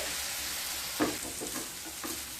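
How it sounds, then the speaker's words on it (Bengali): Spices with a little water fry and get stirred in a pan for dal bhuna, a steady soft sizzle with a few quiet scraping strokes of the spoon, heard alone at low level. "জল দিয়ে মশলাগুলোকে খুব ভালো মতো কষিয়ে নেব।"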